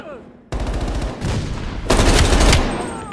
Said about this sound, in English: Heavy MG on the ridge.